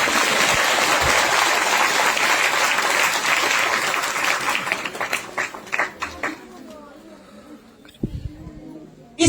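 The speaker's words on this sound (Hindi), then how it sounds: "जोरदार तालियों से।" A church congregation at a Christmas sermon breaks into loud, dense applause that fills the room for several seconds, then thins into scattered individual claps before a voice returns near the end.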